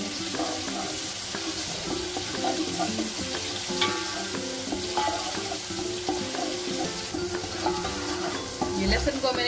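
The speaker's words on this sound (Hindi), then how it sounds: "ये लहसुन को मैंने 1 मिनट तक फ्राई किया है, भून लिया इसको तेल में।" Steady, close sizzling of garlic frying in hot oil, with occasional clinks and stirring scrapes and a faint splash of water, no talking.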